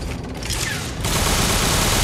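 Heavy tank gunfire in the game Bullet Girls 2 arrives as a loud, dense barrage that swells into a continuous roaring wash of shots after about a second.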